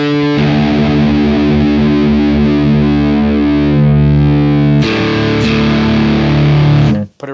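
A distorted electric guitar string sustains while being tuned by ear toward Drop D, its pitch going too high and then lowered back down, with a re-struck note midway, loud and close and cutting off at the end, with no talking.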